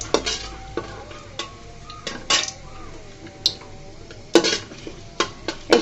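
Bay leaves, cloves and a piece of cinnamon frying in oil for Bangladeshi beef korma, with a soft sizzle under repeated scraping strokes of a spoon against the pot, several sharp clinks standing out.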